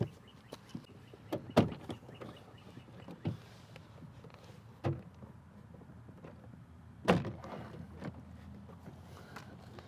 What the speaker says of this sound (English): pop loose our clips holding the door panel onto the door